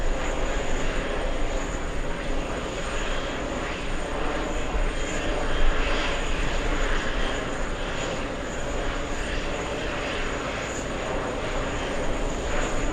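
A Qatar Airways Airbus A340-300 takes off at JFK, its four engines a steady loud roar with broad jet rumble and a high whine, sustained throughout without talk.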